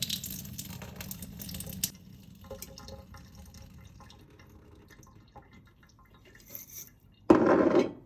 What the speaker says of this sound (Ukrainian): беремо і зливаємо водичку